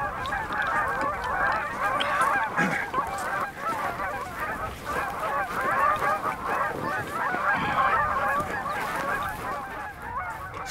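A dense flock of geese honks continuously in an open field during a Wyoming goose hunt, overlapping calls forming a loud, steady chorus with no talk.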